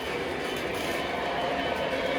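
A 1943 Union Pacific model train runs on the bottom main line of a layout, giving a steady, continuous rolling rumble with faint rail clatter throughout, close and even in loudness.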